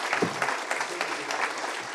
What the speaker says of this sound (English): let's give all the mayors a round of applause if you would.